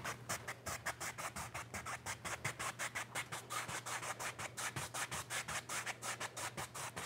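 A paintbrush worked across a canvas in a crisscross motion during a winter evergreens painting, giving close, evenly spaced scratchy strokes in a fast steady rhythm with no talking.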